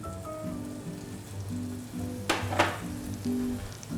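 Onions and cherry tomatoes sizzle and fry in a pan with a steady crackling hiss, broken by a couple of sharp scraping stirs, under a low background hum.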